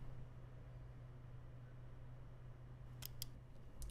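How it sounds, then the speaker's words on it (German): A computer mouse gives a few quick, faint clicks late on, set against a quiet low hum. "Da klicke ich jetzt hier mal drauf."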